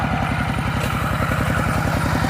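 A 9.5 to 11 horsepower walk-behind tractor engine runs steadily while plowing a rice field on a second pass, a loud, close, even single-cylinder chug with a clattering rhythm throughout.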